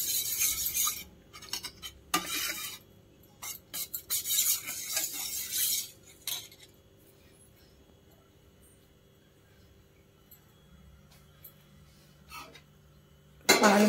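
A spoon scraping and clinking against a vessel while milk powder is stirred into cooled milk, with busy bursts in the first half, then a long near-silent stretch and a sharp clink at the end.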